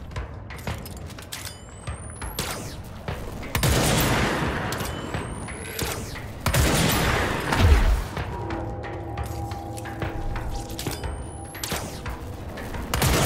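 Steady bursts of gunfire and booming impacts crackle continuously, with occasional rising whistles, from a battle in the shooter game Control on PS4.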